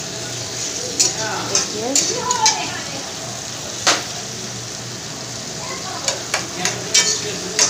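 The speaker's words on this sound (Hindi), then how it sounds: "आलू को फ्राई करना है।" Two medium diced potatoes fry and get stirred in a pan over a high flame, a steady background sizzle broken by scraping stir strokes, while someone speaks briefly.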